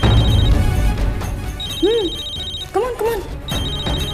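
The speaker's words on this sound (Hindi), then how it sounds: "फोन बज रहा है, तुम्हारा है, उठा लो ना" A mobile phone ringtone beeps in repeated high electronic bursts, loud and close, while people talk over it.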